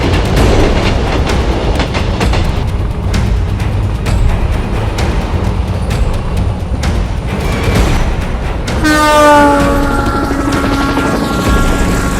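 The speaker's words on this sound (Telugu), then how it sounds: "సెకండ్స్ గ్యాప్ లో 2 ట్రైన్స్ క్రాస్ అవ్వాలి" Two trains crossing at speed make a loud, continuous rumble and rattle with clickety-clack, rising into a high, sustained horn-like whine near the end, with no talking.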